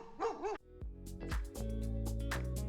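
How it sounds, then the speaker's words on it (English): A dog barks a few times in quick bursts at a Herkimer diamond mine, followed by sharp clattering knocks over a sustained low hum. "oh, here comes the dogs."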